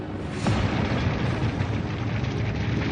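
Gunpowder in bunkers catching fire and exploding, a loud deep roaring blast that swells and rumbles on without clear separate bangs, like a continuous fiery eruption; no voices.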